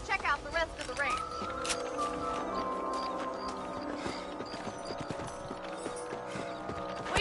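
Horse hooves clip-clop steadily at a riding pace in the video game Red Dead Redemption, with a bright melodic tone and rustling game sounds layered over the continuous hoofbeats.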